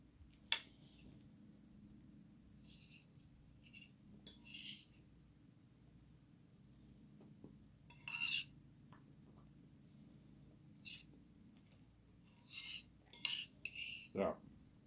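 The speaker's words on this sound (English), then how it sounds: "Excuse the noise, I'm eating food." Faint clinks and scrapes of cutlery against dishes come and go in short bursts over a low background hum, as someone eats nearby.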